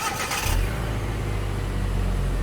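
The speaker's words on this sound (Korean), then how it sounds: "이제 시동을 걸어봅니다" A 2002 Hyundai Avante XD starts up after a muffler replacement: a short cranking burst, then the engine catches and settles into a steady low idle rumble, close and fairly loud, with no voices.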